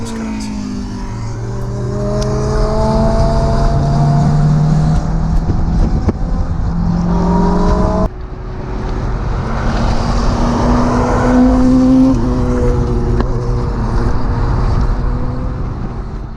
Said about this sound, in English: we spent a lot of the day getting overtaken by very fast cars.